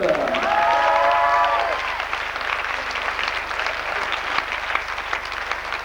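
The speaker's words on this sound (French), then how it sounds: "On peut applaudir Vincent Fayou, alias Monsieur Laroche." A theatre audience claps steadily throughout at curtain call, loud and continuous, with brief vocal tones near the start before settling into sustained applause.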